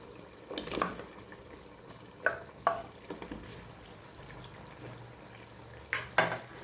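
Cut potatoes stirred in a frying pan with a low background sizzle, punctuated by several sharp scraping and clinking strokes of a utensil spaced irregularly across the clip.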